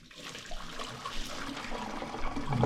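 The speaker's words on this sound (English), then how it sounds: "hot water out. We're putting some cold water in." Hot water from a cooking pot of boiled vegetables for Olivier salad pours out into a sink, a steady rushing splash that builds slightly louder toward the end, with no talking.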